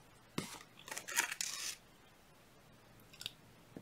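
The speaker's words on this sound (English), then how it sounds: "Okay, so I'm just going to cut my half round, my weaving wire." Half-round weaving wire for a wire-wrapped pendant is snipped with cutters, a few sharp close clicks and crunchy snips in a quiet room.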